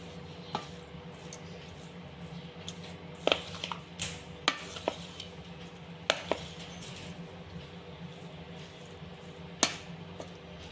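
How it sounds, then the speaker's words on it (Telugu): Pulihora tamarind rice being stirred with a ladle in a pot, giving faint scattered clicks and scrapes of metal on metal at an irregular pace over a quiet low background hum. "ఇప్పుడు ఈ కాడతో బాగా కలిపేయాలి ఫ్రెండ్స్."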